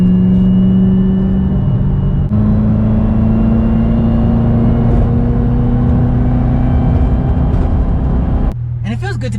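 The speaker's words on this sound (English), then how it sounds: "Even just cruising feels, you can hear the blower whine thanks to your hood" Supercharger blower whine from a Corvette Z06 with a manual gearbox while cruising, a sustained high tone riding over a loud, steady engine drone that drops briefly near the end. Someone talks over it.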